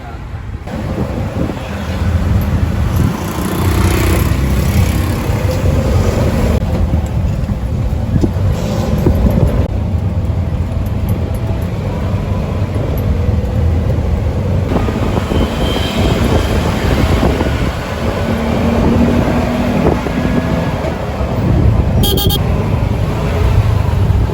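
Riding a tuk tuk through Cambodian traffic: a continuous loud engine drone and road rumble with heavy wind buffeting, occasional passing vehicles and a brief toot, with some talk mixed in.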